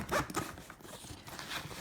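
A zipper on a pocket of an extra-large Victorinox Vx Touring wheeled duffel bag is pulled in quick repeated rasping strokes, close and fairly quiet, with no talking.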